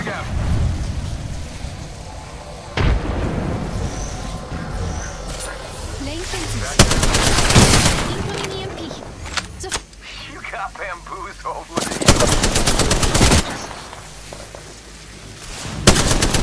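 Gunfire in the battle-royale shooter Apex Legends, with loud broadband bursts of shots and rattling volleys that come and go over the clip, with rain-like game ambience and voices talking in the background.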